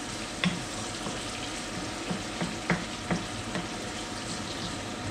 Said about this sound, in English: it's cooking away